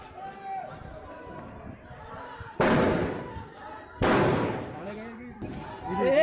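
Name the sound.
gunfire during an election clash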